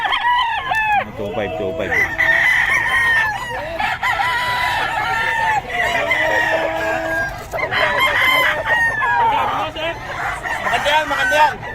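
Chickens cluck and roosters crow repeatedly at a busy Taguig-area poultry market, close and loud, with people talking and haggling throughout.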